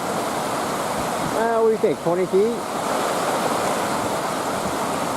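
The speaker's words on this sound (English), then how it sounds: "This is where Chapel Lake dumps right into Lake Superior. And there's a lot of water," Chapel Rock Falls pours from Chapel Lake into Lake Superior with a steady, loud rush of falling water that fills the whole clip, while a person speaks briefly over it partway through.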